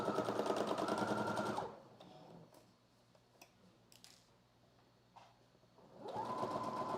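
A domestic sewing machine stitches a muslin pocket seam with a backstitch, a fast buzzing rattle at the start, a quiet pause with small clicks and handling noises, then the motor revs up again near the end.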